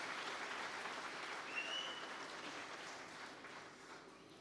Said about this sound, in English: let's give them a big round of applause, all of those that have contributed to it